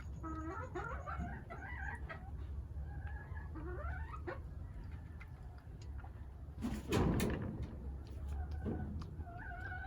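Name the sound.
hens clucking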